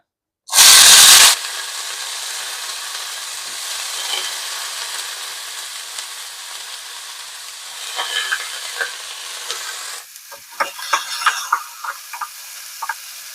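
Brinjal pieces hit about a tablespoon of hot oil in a pan with a loud, sudden burst of sizzling, which settles into a steady fry broken by scraping stirs.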